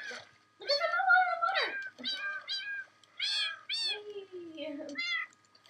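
A crowd of cats meows in a video game, several overlapping mewing calls of rising and falling pitch in quick succession, close and clear with short pauses between them.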